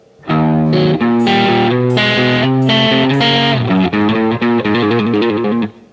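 An electric guitar plays a blues walk-up, a clear run of single notes that steps upward in a steady rhythm, with a slightly driven tone and short gaps near the end.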